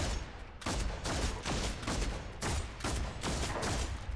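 Continuous heavy gunfire from the video game Deathwatch: Tyranid Invasion, dense overlapping bursts of shots and blasts filling the whole stretch at steady loudness.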